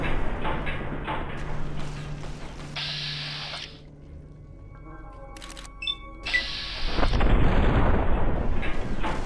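Explosions and clattering weapon mechanisms from the Lonesome Road add-on of Fallout New Vegas, with loud bursts, a quiet lull in the middle, then a heavy roaring blast rising again near the end.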